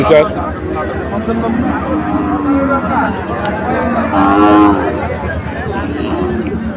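Cattle lowing now and then amid a busy outdoor crowd at a cattle market in Betaga, with steady chatter and voices talking close by throughout.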